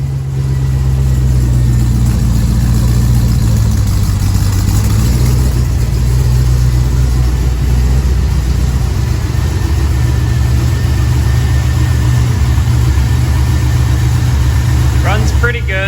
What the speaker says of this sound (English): But it runs now and it idles.